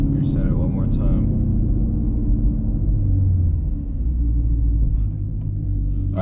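The engine of a 500 wheel horsepower sixth-generation Camaro SS on drag radials rumbles loud and close from inside the car, a deep sustained roar that swells and eases, with a brief voice near the start.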